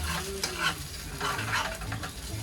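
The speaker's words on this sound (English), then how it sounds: "I know you're not supposed to use a metal spoon on this pan" A metal spoon stirs crumbled cheddar cheese in a worn frying pan on a small apartment stove, scraping steadily over a continuous close sizzle, with no voices.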